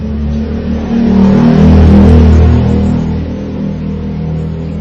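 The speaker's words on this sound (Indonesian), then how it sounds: "Ini Pajero warna hitam edisi tahun 2009." Engine of a black 2009 Mitsubishi Pajero revving: a deep, close rumble that swells to a louder held rev in the middle, then eases back to idle, with no talk.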